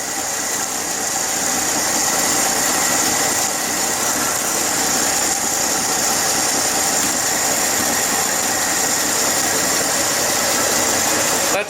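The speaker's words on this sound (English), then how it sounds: "That's an exhaust leak right there." A 1967 Chevy C10 pickup engine idles after an engine swap, a steady close rumble with a ticking exhaust leak and a high-pitched whine, continuous and loud.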